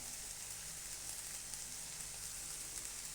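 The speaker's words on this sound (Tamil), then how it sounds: "நல்லெண்ணெய் ஊற்றிக்கிறேன்." Steady, faint sizzling of bitter gourd frying in a pan as sesame oil is added, a continuous hiss and crackle with no talk.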